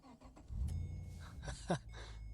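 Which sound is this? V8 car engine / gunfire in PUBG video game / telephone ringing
V8 car engine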